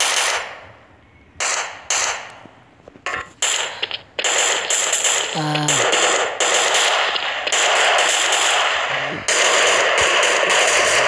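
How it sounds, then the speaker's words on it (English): Gunfire rattles through a battle in the shooter game Special Forces Group 2. Short bursts open the clip and give way to long, loud, sustained automatic fire, broken by a few brief pauses. "Okay, I can hear someone shooting."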